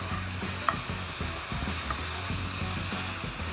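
Vegetables for a Philly cheesesteak fry in a pan with a constant close sizzle, broken by rhythmic scraping and stirring strokes and a faint sharp clink early on.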